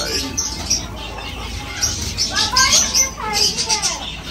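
Small birds chirp and tweet in short, high calls scattered throughout, fairly close, over a steady background hiss.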